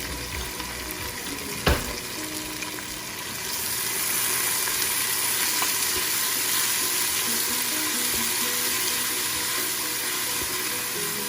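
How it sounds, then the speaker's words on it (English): A sharp clatter is followed by a steady, crackling sizzle of onions frying in a pressure cooker, continuing evenly throughout. "we're going to fry this for a little while"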